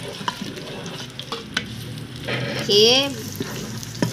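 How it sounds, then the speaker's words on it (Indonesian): Onions sizzle steadily in hot oil for nasi goreng, stirred with light scraping close by, while a voice speaks briefly. "Okey, minyak ni dah panas. Boleh masukkan bawang."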